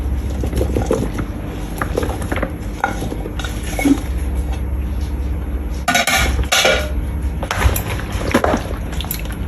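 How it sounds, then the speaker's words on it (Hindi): Chopped bell pepper goes into a pan of chicken and vegetables being readied for oven roasting, with close clinking of a utensil against the pan, scraping stirs and a louder clatter partway through. "अब मैं डालती हूँ शिमला मिर्च"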